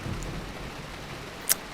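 Rain falls steadily in the racing game Assetto Corsa Evo, a constant soft hiss with low rumbling thunder beneath it and one brief, sharp crack near the end.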